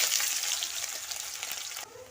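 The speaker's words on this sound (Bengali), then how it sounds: "চিনির মধ্যে পেঁয়াজ কেটে রেখেছি পেঁয়াজটা দিয়ে দিলাম" Sliced onion dropped into hot oil with caramelized sugar, a loud, close, steady sizzle that stops abruptly near the end, with no talk.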